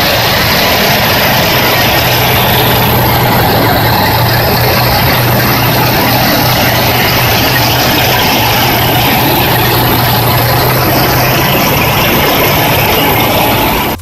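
A loud, steady heavy truck engine drones low and constant near a highway, with a broken-down truck being towed along, the rumble unbroken throughout with a faint hum underneath.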